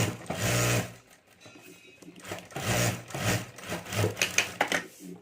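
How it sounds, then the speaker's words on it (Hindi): A sewing machine runs in bursts, stitching all four sides of a potli bag's lining together with a rubber sheet, its whirring rattle starting and stopping close by with no voices. "तो यहाँ मैं चारों तरफ सिलाई कर देता हूँ।"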